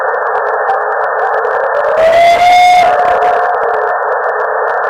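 A long, rising then sustained tonal howl sounds briefly in the middle over a loud, steady band of hiss, fading after a couple of seconds.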